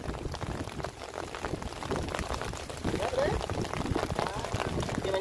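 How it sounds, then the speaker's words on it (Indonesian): Heavy rain pours steadily over a fishing reservoir, a dense, constant wash of patter and noise with no letup. "Ini hujan deras nih"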